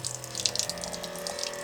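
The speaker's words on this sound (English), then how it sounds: "Let's see if it will run my 12-volt pump." Sink tap in a van running from a 12-volt water pump, water flowing steadily with a faint pump hum underneath, continuous and fairly close for the whole stretch.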